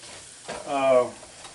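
Flour roux for sausage gravy cooking to a pale blonde in a pan, with a soft stirring and scraping burst in the middle of an otherwise quiet stretch.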